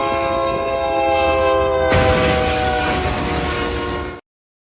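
A train horn blares steadily and loudly while a train rushes by close at hand, the roar and rattle of the cars rising partway through before the sound cuts off abruptly.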